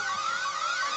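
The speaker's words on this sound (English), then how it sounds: "whenever the alarm goes off," An alarm goes off in a horror video game, a steady electronic siren tone repeatedly sweeping upward in pitch in a fast, regular cycle, heard alone and at moderate loudness.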